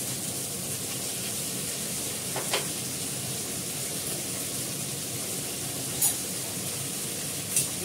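Pointed gourd (potol) frying in a pan with salt, a steady hissing sizzle throughout with a few faint scrapes and clinks of stirring.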